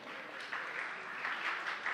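Applause from an audience at an awards gala, a soft, distant wash of clapping that swells in waves and continues steadily, without talk.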